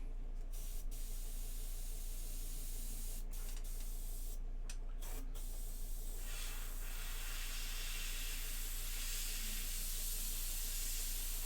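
Spray paint hisses steadily onto a miniature of Yndrasta, the Celestial Spear, a continuous close airy spray lasting the whole stretch with only brief breaks near the start.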